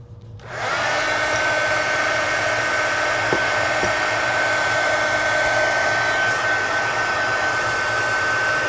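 A hair dryer switches on and blows steadily to dry paint on a mini magazine art journal, a loud constant whooshing whir that holds unchanged after a brief start.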